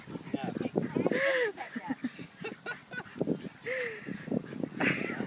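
Ducks quack and honk repeatedly while being fed bread, their calls mixed in and overlapping with people talking close by.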